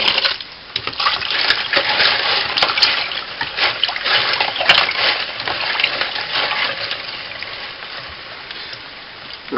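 Lego bricks being washed and rinsed in soapy water, a steady close splashing and clattering of plastic pieces churning through the water for the whole stretch, with no talk.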